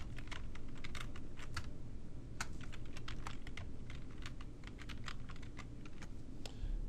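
A password being typed on a computer keyboard: a fast, steady run of close, crisp key clicks and taps lasting several seconds, with no voices.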